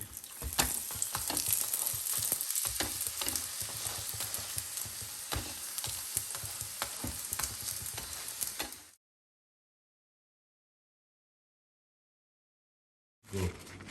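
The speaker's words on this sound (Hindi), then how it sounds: "अब इस साइड भी हम देसी घी लगा देते हैं और बना देते हैं इसकी फिर एक बार पलटी" A lachha paratha fries in desi ghee with a bright, crackling sizzle and bursts of spatter for several seconds, then silence, then the sizzle returns briefly.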